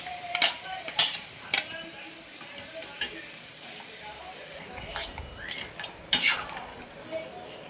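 Masala paste of onion, tomato and chili stirred in a hot pot, sizzling steadily while a spoon scrapes and clinks against the metal several times, close up, with a voice speaking partway through.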